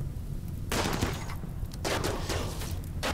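Bursts of rapid gunfire in the colony-building game RimWorld during a modded infestation fight, with two dense volleys of shots rattling loudly across the clip and a brief lull between them.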